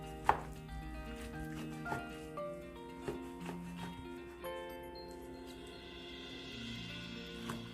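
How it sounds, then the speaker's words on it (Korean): A knife cuts soaked seaweed into 6 cm pieces on a board, making a few soft, spaced chops under a bed of quiet background music. "불린 미역은 6cm로 썰어줍니다"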